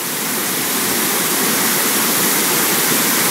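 Roaring waterfall at Burgess Falls in the southeastern United States, a loud steady broadband rush with no gaps, heard up close with nothing else over it.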